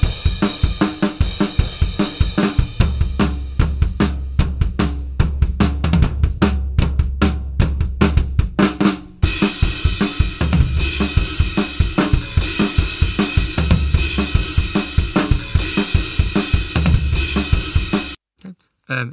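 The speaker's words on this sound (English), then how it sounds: "But drum kit as a whole, just with the bare one, so I've muted a couple off just for the time being." Unprocessed multitrack drum kit recording, with a couple of tracks muted, played back in a studio: loud, steady rhythmic hits of kick, snare and cymbals running continuously for around eighteen seconds, with a brief break midway, then stopping abruptly.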